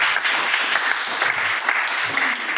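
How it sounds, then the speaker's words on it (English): An audience claps for a technician at a live comedy show, steady dense applause that stays fairly loud throughout, with no clear voices over it. "You can go ahead and give Greg a round of applause for the technical part right now."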